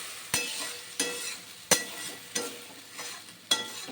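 Fish in a vinegar gravy cooking on a gas flame turned down to low heat, with soft steady sizzling broken by about six sharp, close stirring scrapes of a spoon against the pan, spaced roughly half a second to a second apart.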